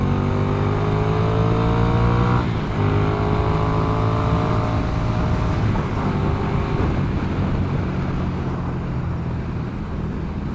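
A 2015 Ducati Scrambler 800cc motorcycle accelerates hard, its engine note climbing through the gears with a pitch drop at each shift, loud and close under steady wind rush.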